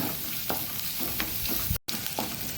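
Onions frying in a pan until they turn transparent, a constant close sizzle with light stirring scrapes and a brief dropout near the end.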